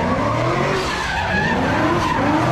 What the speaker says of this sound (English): Everybody loving the G8. That shit sounds wet.